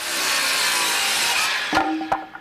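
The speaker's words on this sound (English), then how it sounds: "The pounding of the hammer is mixed with the sound of distant gunfire." A hammer pounds while plywood walls go up at an Army forward operating base in Iraq: a long rushing, scraping noise, then two sharp, loud blows close by near the end.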